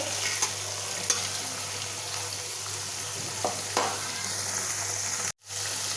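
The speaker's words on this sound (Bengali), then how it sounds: "তো পেঁয়াজটাও ভাজা হইব, চিংড়ি মাছটাও ভাজা হয়ে যাবে একসাথে।" Onion and shrimp sizzle together in a hot pan, a steady broadband frying hiss with a few soft clicks of stirring, briefly cut to silence near the end.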